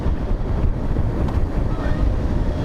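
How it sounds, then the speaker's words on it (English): Strong wind buffets the microphone of a rider on a Suzuki 650 motorcycle, a loud, steady low roar and rumble that drowns out other detail for the whole stretch. "It's highly windy out here today."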